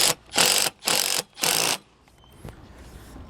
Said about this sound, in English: grab my screw gun and we'll shoot that in place